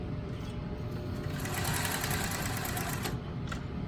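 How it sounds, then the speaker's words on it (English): A sewing machine stitches down a seam allowance in a steady, continuous mechanical whir, close and fairly loud throughout, with a brief pause and restart near the end. "And I'm going to stitch my seam allowance down."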